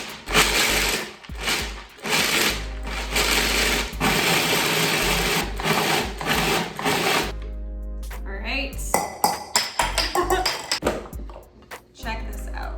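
A blender pulsing white chocolate into pebbles, loud harsh whirring bursts of the motor that start and stop repeatedly, followed by rattling and clinking of the jar and contents, close and dominant.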